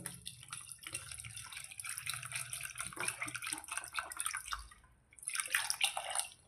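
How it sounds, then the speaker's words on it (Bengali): Water poured into a pot of washed raw chana dal before boiling, a faint splashing, trickling pour that pauses briefly and then resumes, heard close with no voices. "এই যে পানি আছে, পানি দিয়ে দিলাম"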